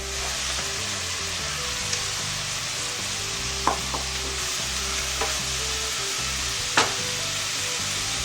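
Frozen mixed vegetables sauté in a pan with a continuous crackling sizzle, a low background hum beneath, and a few isolated utensil clinks against the pan.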